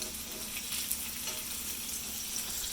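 Meatballs sizzle steadily in a frying pan, a dense continuous hiss of browning fat that holds close and even throughout with no voices.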